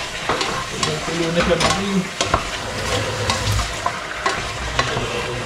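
Pork adobo with chicken cooking in a pan, a steady sizzle with repeated scraping and clinking stirs at an irregular pace, close by, while a voice speaks briefly.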